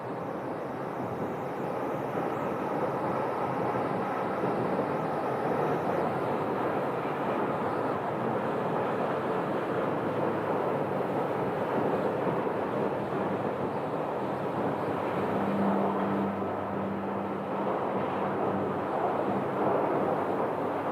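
A fixed-wing airliner comes in to land on the north side of Phoenix Sky Harbor Airport at sunset, a steady broadband roar of engine and wind that holds level throughout, with a low hum joining near the end.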